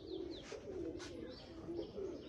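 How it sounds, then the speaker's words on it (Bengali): Pigeons cooing in soft, low, repeated calls at a steady pace, with a few faint higher chirps over light background noise. "কবুতরগুলো কিন্তু বেশ ভালো একটা ফ্লাই করতেছে।"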